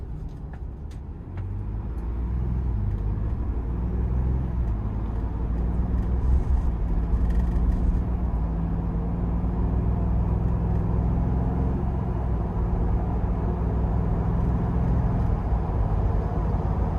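Inside the cabin of a 2025 Ford Bronco Badlands with a 2.7 twin-turbo V6 and Sasquatch package, a steady low engine and road rumble drones at moderate volume, with no talk.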